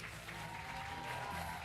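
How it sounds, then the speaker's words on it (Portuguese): Audience applause at a digital product design talk, a steady wash of clapping from a crowd, fairly faint and continuous throughout. "uma salva de palmas para ela"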